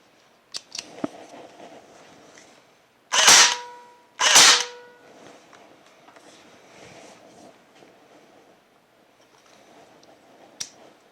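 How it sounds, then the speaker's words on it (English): A repaired Evanix Speed air rifle fires two sharp, loud test shots about a second apart, each a crisp crack with a short decay, amid quiet handling clicks. "we just want to take a couple test shots to make sure that the gun is operating properly."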